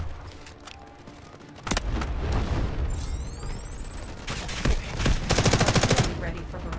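Rapid machine-gun fire and booming artillery barrage in the military shooter Delta Force: Hawk Ops, dense loud battle noise with heavy impacts and a faint voice beneath.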